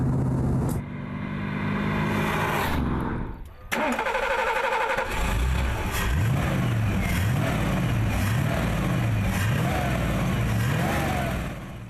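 An Italia Spyder sports car with a 5.7-liter Ford V8 drives past loudly, its engine roaring through rising and falling gear changes with a brief dip before revving up again, under narration.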